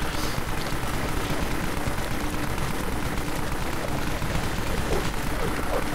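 Dense, continuous gunfire from the online zombie shooter Dead Frontier during a boss fight, a loud unbroken barrage of rapid shots and impacts that persists throughout.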